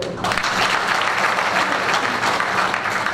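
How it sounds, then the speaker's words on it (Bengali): An audience gives a burst of applause, dense clapping from many hands that is loud and close and sustained for a few seconds. "যারা বাইরে আছেন তাদের জন্য একটা হাততালি দিই সবাই"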